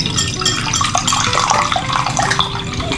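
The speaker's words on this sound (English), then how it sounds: "And then we're gonna drain the chickpea juice." Liquid drains from an opened can of chickpeas, a steady close trickle and splash of the aquafaba running out, continuous and fairly loud with no talking.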